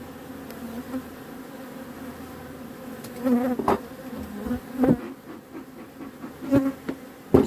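Honeybees buzz steadily around an opened beehive during a swarm-prevention inspection, a dense close drone with sharp knocks and taps of frames and tools rising over it in the second half.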